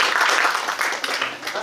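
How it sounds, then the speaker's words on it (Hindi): Brief burst of audience clapping for Gaurav during a business-idea session, a close, uneven patter that swells and fades within a couple of seconds, with some voice mixed in. "गौरव के लिए तालियां मारो"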